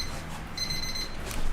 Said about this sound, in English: Can you handle that timer?